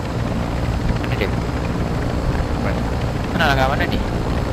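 A helicopter in the video game Call of Duty: Modern Warfare II drones as a loud, steady rotor rumble that fills the whole stretch, with a brief whooshing swell near the end.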